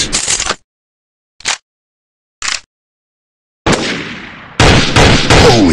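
Sniper gunfire in the Special Ops Online FPS game: a sharp shot, two short clipped bursts, then a loud booming report with a long decaying tail followed by another heavy crack, with no talking.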